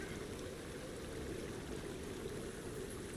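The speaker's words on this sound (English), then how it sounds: "Over here by the waterfall." Steady rushing waterfall in the survival game Sons of the Forest, a continuous broadband wash of falling water at low level with no talk over it.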